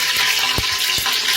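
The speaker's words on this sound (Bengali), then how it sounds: "প্রথমে তেজপাতা দিয়ে ভালো করে ভাজতে হবে।" Bay leaves frying in hot oil in a pan, a loud bright sizzle with a few quick stirring clicks over a short span.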